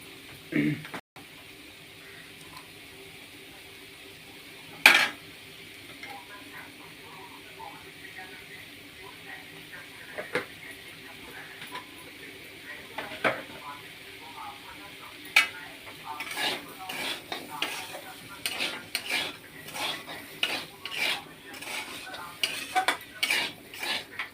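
Spices stirred and sautéed in a pan, a steady low sizzle under clear repeated scrapes and clinks of a metal spoon on the pan, growing busier and more rhythmic toward the end, with a voice talking at times.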